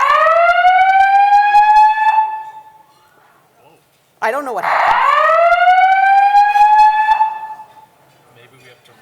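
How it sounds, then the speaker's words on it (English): A loud hotel fire alarm blares in two long rising-and-holding electronic wails separated by a short pause, with a voice speaking over it. "Is there a fire alarm?"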